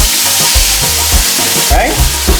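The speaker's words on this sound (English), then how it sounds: "this is the pork. We're going to throw it. You go hear the noise." Pork for a stew with pigeon peas thrown into a hot pot, a loud, close, continuous sizzle with rhythmic low thumps of stirring through it.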